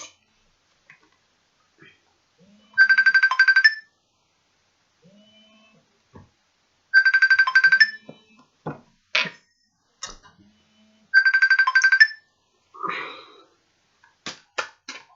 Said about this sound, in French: quand le téléphone sonne, ça ne peut pas aller